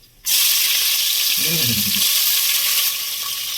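Spices spluttering in hot oil as a tempering before onion goes in for mushroom biryani; a loud, steady sizzle starts abruptly and crackles on continuously, with a brief low voice murmur in the middle.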